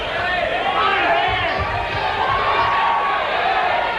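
A boxing match crowd from 1986 cheers and yells loudly in the final seconds of the last round, a dense continuous roar of shouting voices with an announcer talking over it.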